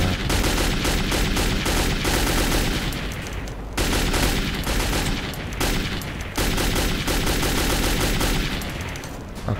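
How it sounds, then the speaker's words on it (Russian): Kalashnikov rifle fire in the video game Metro 2033: loud, sustained automatic bursts of sharp gunshots crackle nearly continuously, with a couple of brief breaks between volleys. "А калаш, кстати, мощный."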